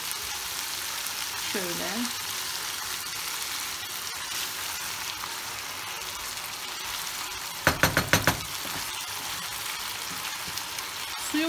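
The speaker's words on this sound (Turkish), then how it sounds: "Ben 1 çay bardağı su ekleyeceğim." Minced meat for kebab frying in a pan with water added, giving a continuous steady sizzle throughout, with a brief word spoken early and a short burst of clattering near the end.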